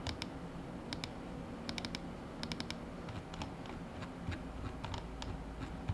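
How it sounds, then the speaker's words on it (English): The loose, rattly mechanical scroll wheel of a Razer DeathAdder V3 Pro mouse clicks in quick uneven bursts of faint ticking, close up and quiet, with no talk. "the mechanical scroll wheel encoder, which has been known to fail over time. Mine still works, but it does sound very loose and rattly."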